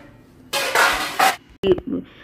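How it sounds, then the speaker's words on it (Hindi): Steel utensils clatter and clink as they are set down one after another on a kitchen rack, a few sharp bright knocks close by. "यहाँ पर मैं सारे बर्तन को वन बाई वन करके रखूँगी"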